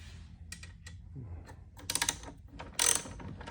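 A wrench working a nut loose on a DirtyBike 219 Light Bee electric dirt bike gives scattered soft clicks and scrapes, then two short, louder bursts of rapid ratcheting clicks close by.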